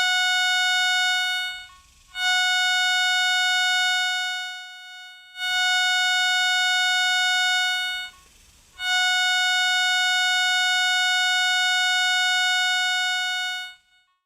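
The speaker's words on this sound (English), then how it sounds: "any target encountered during these sweeps will produce a distinct audio response" Garrett Recon Pro metal detector giving its audio target response: a loud, steady electronic harmonic tone sounding nearly continuously, broken by a few short dropouts, with no voices.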